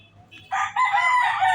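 A domestic rooster, caught in the mountains, crows once, close and loud, in a single drawn-out call that swells after a brief rising start and holds steady to the end.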